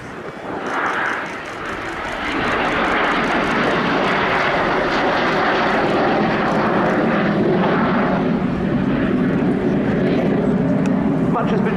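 A Messerschmitt Me 262 jet fighter flies past at an airshow, a loud, steady roaring engine wash that swells after a brief dip and holds for several seconds, with a voice audible under the noise.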